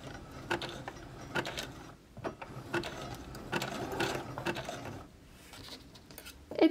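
Sewing machine stitching a drawstring bag seam through two fabric layers, a close mechanical whirring chatter running in bursts with brief pauses between runs.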